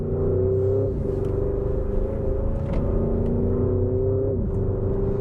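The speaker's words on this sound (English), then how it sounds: "hearing that noise from that V8 engine" The 2023 Porsche Cayenne Turbo GT's 630-horsepower V8 engine, a deep, steady close-up drone with rising and dipping pitch as it revs and shifts, loud and alone.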